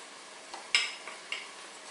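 A spoon stirring browned meat with added veal stock in a pan, faint scraping and soft clinks against the pan over a quiet sizzle, with a few distinct taps across two seconds.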